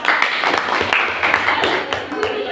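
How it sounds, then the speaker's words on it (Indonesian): Applause from a classroom audience for a student after her group presentation, dense overlapping claps filling the whole stretch at steady loudness, with some voices mixed in. "Tepuk tangan buat pokoknya Mbak Nala."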